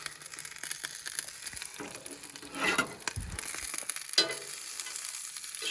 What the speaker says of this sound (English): we're making sausages